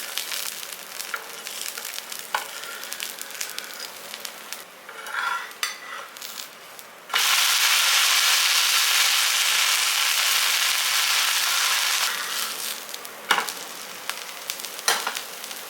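Tomato pepper dosa batter spread on a hot griddle, a steady loud sizzle that swells midway, with scattered clinks and scrapes of a metal ladle or spatula against the pan.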